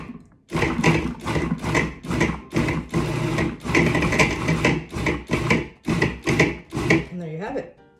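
A food processor pulses quartered onion in a rapid series of loud, evenly spaced bursts of whirring and chopping, each short pulse separated by a brief gap.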